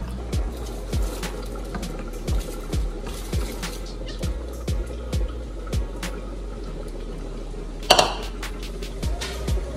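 Rice being washed by hand in water inside a pot while making Jamaican rice and peas, with a steady series of soft sloshing strokes and clinks against the pot, plus one sharper clatter near the end.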